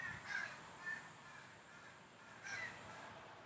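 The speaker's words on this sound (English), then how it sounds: "The birds are going to come in." Crows caw outside in a few faint, separate bursts against quiet background hiss, with a pause before the last call.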